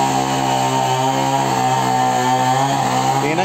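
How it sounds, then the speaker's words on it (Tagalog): A chainsaw runs loud and close with a steady droning whine near a riverside path damaged by flooding, holding one continuous pitch throughout with no talking. "May chinso pa na maingay."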